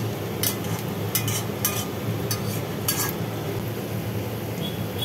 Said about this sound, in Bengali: পেঁয়াজটা একটুখানি কালার চেঞ্জ না হওয়া পর্যন্ত একটু ভাজি ভাজি করতে হবে।